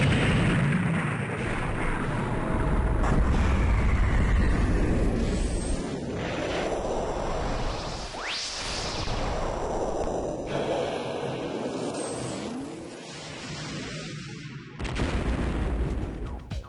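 Weapon fire and explosions from the PS1 game Assault Retribution: dense, continuous rumbling blasts and booms with a rising whine midway, loud and busy throughout with no talk.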